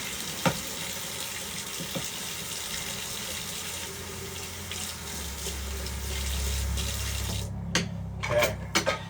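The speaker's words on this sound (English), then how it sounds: "I'm just going to give some of my bowls a rinse here that I was using" A running kitchen sink tap pours in a steady hissing stream while bowls are rinsed underneath, and a few clinks and clatters of the bowls stand out near the end.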